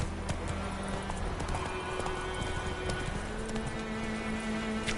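The horse Roach gallops in The Witcher 3, a quick, steady clip-clop of hooves running at pace, close and clear against a low game background.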